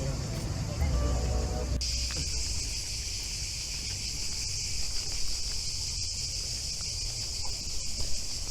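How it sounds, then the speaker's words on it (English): Cicadas in the Greek countryside keep up a steady, shrill buzzing drone that swells in loudly after a couple of seconds and holds without a break, with a few low bumps and handling noise at the start. "Sounds like cicadas again."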